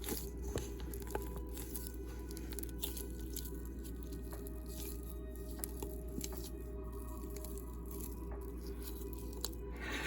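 Soft squishing and crunching of butter being kneaded into flour by hand for egg tart dough, a close, continuous quiet mashing with small irregular crackles and no talking.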